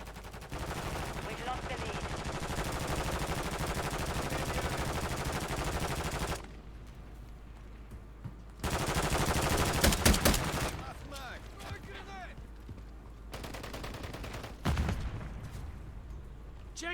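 Gunfire from a gun in the video game Rust, sounding as long, loud rattling bursts of rapid shots that are separated by quieter pauses, with a sharper burst near the end.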